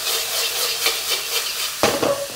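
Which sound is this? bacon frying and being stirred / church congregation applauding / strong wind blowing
bacon frying and being stirred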